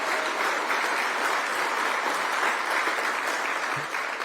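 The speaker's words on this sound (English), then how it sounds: "So let's give a round of applause for our chairman of the board." An audience applauds the airport board chairman at a runway groundbreaking event, a dense, steady wash of many hands clapping at full strength throughout with no voices.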